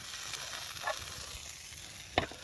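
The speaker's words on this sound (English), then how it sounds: "sizzling." Steady, soft sizzle of food frying in a pan, with a couple of brief clicks or taps, no voices.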